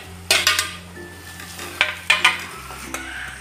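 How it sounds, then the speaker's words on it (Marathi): Coarsely chopped green chillies go into masala frying in oil for a Khandeshi-style mirchi bhaji, with sharp scrapes and clinks of a spoon against the pan over a soft sizzle. "त्याचे हिरवी मिरच्या बारीक करून घेतल्या होत्या जाडसर, आता ते घालू आपण याच्यामध्ये"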